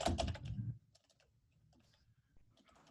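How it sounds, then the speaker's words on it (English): Someone types steadily on a computer keyboard while working in estimating software. A dense burst of clicks comes first, then sparser, softer keystrokes continue, close by and with no talking. "just start typing"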